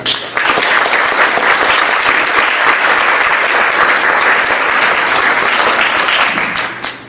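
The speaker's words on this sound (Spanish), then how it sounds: "Recibamos pues con un aplauso a nuestro muy distinguido visitante el día de hoy." Lecture audience at a university faculty applauding to welcome a distinguished visiting speaker, loud, dense and steady clapping for about seven seconds, tapering off at the end.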